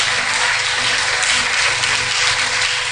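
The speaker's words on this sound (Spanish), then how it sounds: "Fuerte las palmas para Cristo." A church congregation clapping loudly and continuously in praise during a Christmas sermon, a dense even wash of many hands with no voices above it.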